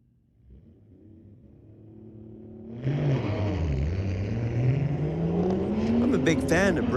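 A 1994 Toyota Supra at a street-legal drag race night revs up and pulls away, its engine note building from a low rumble into a loud, rising roar with a clear tonal whine, close by, with crowd and announcer chatter underneath.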